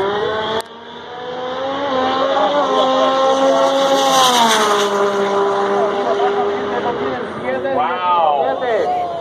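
A Pontiac race car at the Haltech World Cup 2018 accelerates hard down the track, its loud engine climbing through rising revs and gear changes, with a commentator talking over it.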